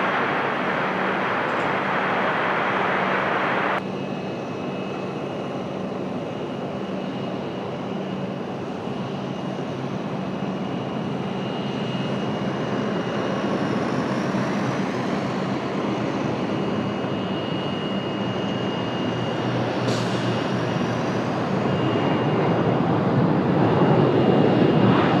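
An Iberia airliner takes off from runway 30 with a broad, sustained jet roar that holds steady for about 25 seconds, heard from a distance without any voices.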